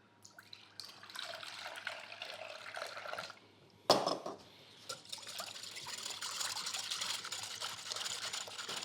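Milk poured into a glass bowl with an egg while making brownies, a soft liquid trickle and splash, broken by a brief clink around the middle, then a steady pour to the end; no talking.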